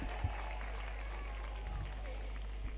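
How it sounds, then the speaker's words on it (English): Audience applause follows a chairperson's speech. The clapping is faint and steady, set against a strong low hum, with a few louder claps standing out. "Let's give them a resounding round of applause for everything they've done."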